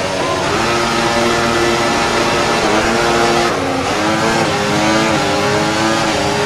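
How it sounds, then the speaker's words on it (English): An F1 race car engine in the video game F1 24 revs continuously at high pitch, loud and steady, with the tone rising and dipping through gear changes. "The engines don't seem to sound too good either."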